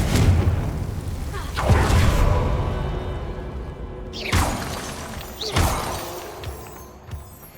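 Confringo blasting curse cast in Hogwarts Legacy, set off as several loud, sharp explosive bursts with whooshing trails and crashing debris, spaced a second or two apart.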